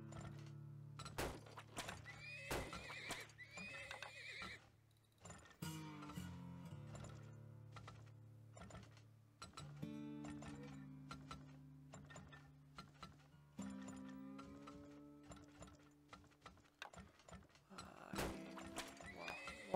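Horses neigh and whinny repeatedly over clip-clopping hooves and mechanical clunks in the video game Turmoil, with a steady low hum underneath, all fairly quiet.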